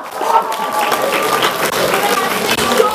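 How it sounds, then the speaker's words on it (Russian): An audience applauds a model at a teachers' team New Year KVN comedy show, with dense clapping filling the hall while a voice talks over it. "Аплодисменты модели!"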